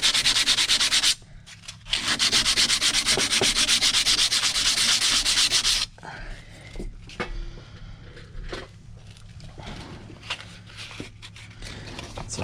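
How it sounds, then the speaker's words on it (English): Hand sanding a surface with 180 grit sandpaper, a steady close scratchy rasp for the first few seconds, then shorter irregular rubbing strokes with brief pauses, no talking. "I'll take a little sandpaper to it right now."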